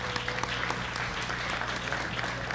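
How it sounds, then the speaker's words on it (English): An audience at an iftar dinner and celebration in Brooklyn claps warmly, giving a dense, steady round of applause from a roomful of people that holds level throughout. "please, let's give them a round of applause"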